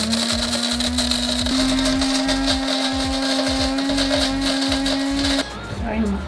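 An electric burr coffee grinder grinds 14 grams of beans for a French press, a loud steady whirring hum that runs close and continuous for about five seconds before cutting off, with faint talk afterward.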